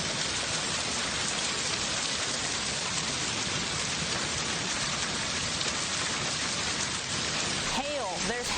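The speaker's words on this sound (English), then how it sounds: "Hail. There's hail in there." Hail and rain pound down during a major monsoon storm in Phoenix, Arizona, making a dense, unbroken roar throughout. A voice briefly cuts in near the end.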